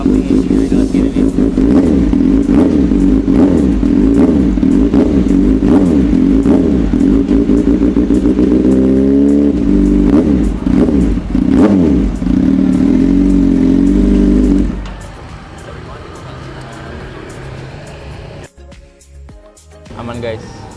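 A 2014 Kawasaki ZX636R motorcycle engine is blipped repeatedly up close, loud rising and falling revs over a rough idle, then cut off abruptly, leaving quieter background noise.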